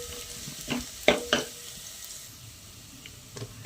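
Garlic fries in a pan with a faint sizzle, broken by a few sharp stirring scrapes and clacks close by, then settles into a quieter hiss. No one talks.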